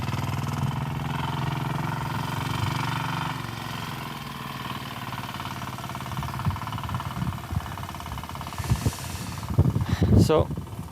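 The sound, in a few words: motorcycle passing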